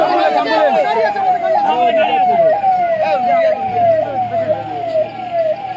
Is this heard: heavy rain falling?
no